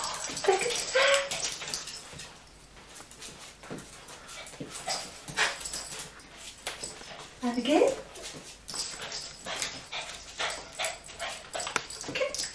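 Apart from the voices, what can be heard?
dog barking and whimpering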